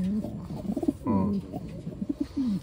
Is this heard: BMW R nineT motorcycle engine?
no